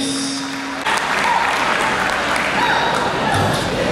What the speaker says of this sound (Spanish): Fuerte el aplauso para el profesor Gonzalo Mella Reyes.